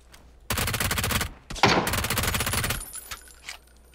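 A P90 submachine gun in a video game, firing two long rapid bursts of automatic fire that sound loud and close, followed by a few scattered single shots and quieter clicks as the bursts end.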